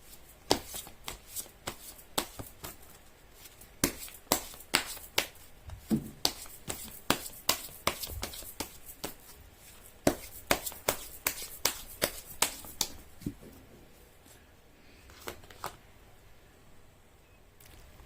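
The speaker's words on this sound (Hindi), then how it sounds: "कर लेती हूँ कार्ड की शफलिंग।" Tarot cards being shuffled by hand in a series of quick crisp riffles and soft flicks, close and fairly quiet, with irregular bursts and brief pauses and no talking.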